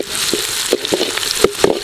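Onions frying in hot oil with cumin seeds for a quail egg masala gravy, a short, close burst of sizzling with scattered sharp crackles and pops.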